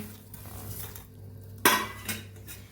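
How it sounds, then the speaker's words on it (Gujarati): A spoon scrapes and clinks in a pan while adadiya ingredients such as roasted flour, edible gum and dry fruits are mixed, with soft scraping and one sharp metallic knock near the end. "આ બધું સરસ આપણે મિક્સ કરી લઈશું"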